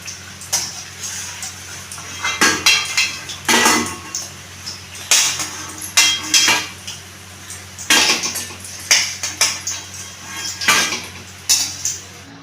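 Fried chicken fingers are shifted into another dish, producing repeated clinks and scrapes of utensils against metal and ceramic that come in irregular bursts, close and fairly loud with no voices.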